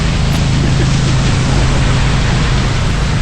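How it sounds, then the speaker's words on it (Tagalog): Loud, dense hiss of heavy rain pouring steadily without a break on a highway, close and enveloping, with a low rumble underneath. "Lakas na ulan."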